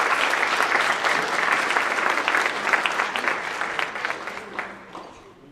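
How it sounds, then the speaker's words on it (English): Guests at a university hall of fame banquet clap for a piano performance student, a full, close burst of applause that slowly thins and fades out near the end. "Let's give her another big round of applause."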